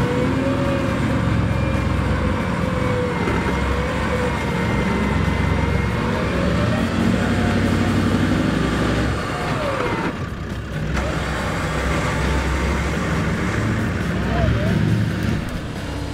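A Toyota Land Cruiser's engine drones loud and steady as it strains to pull a stuck 4x4 out of mud off-road, easing briefly midway before building again, with faint voices in the background.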